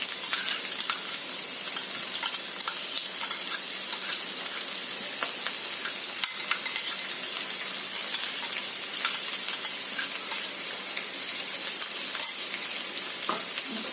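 Onion, garlic and green chilli fry together in a pan for a fish roe paratha, a steady close sizzle with occasional stirring clicks and scrapes, no talk.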